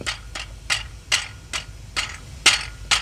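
With the transmission removed, a car engine's worn rod bearing knocks in a steady rhythm of sharp metallic raps, about two per second, close and clear over a low running hum.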